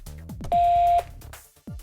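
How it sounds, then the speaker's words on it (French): A single long, steady electronic beep from a Diagral GSM alarm transmitter sounds for about half a second, with quiet speech-like sounds before and after it. "Le transmetteur émet un bip long."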